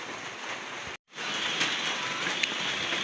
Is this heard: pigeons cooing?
no